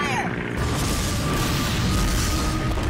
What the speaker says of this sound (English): Aerial bombardment.